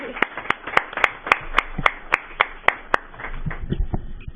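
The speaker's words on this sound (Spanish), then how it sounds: "Démosle un aplauso, por favor." A seminar audience at a university legal-studies event in Mexico claps in a sparse, fairly regular ripple of distinct hand claps, close and moderate in volume, thinning toward the end.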